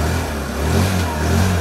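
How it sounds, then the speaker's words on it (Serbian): A motorcycle engine revs close by, a loud, steady low growl that swells slightly midway and holds, with no talking over it. "Da znaju kako to ide motori."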